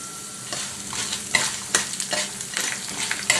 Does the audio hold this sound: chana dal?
yes